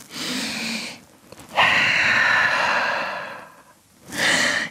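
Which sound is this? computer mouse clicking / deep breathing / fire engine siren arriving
deep breathing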